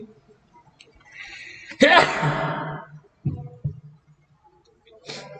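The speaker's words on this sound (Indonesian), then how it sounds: "sempat bersin ya Bapak." A single sharp sneeze bursts out at close range, followed by a couple of short breathy sounds and brief talk in a quiet room.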